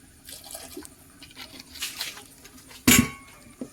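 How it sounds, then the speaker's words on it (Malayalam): Rose water and pineapple essence are poured in the kitchen, giving one short, close liquid splash after quiet faint handling noise. "റോസ് വാട്ടറും പൈനാപ്പിൾ എസൻസും ആണ് നമ്മൾ ഒഴിക്കുന്നത്."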